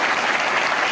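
An audience at a political rally in Haryana claps loudly and continuously, dense applause filling the whole moment without a break.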